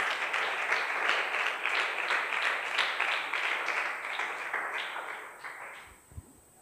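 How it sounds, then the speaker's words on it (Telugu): A Calvary Chapel congregation claps to welcome a speaker to the pulpit, a full, steady burst of applause that gradually thins and fades away, ending with a soft thump near the close. "వారు వచ్చుచుండగా చప్పట్లు కొట్టి వారిని ఆహ్వానమిద్దాం"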